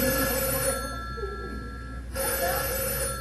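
A telephone rings in two clear bursts with a brief pause between them, the tone steady and fairly close, with faint room noise underneath.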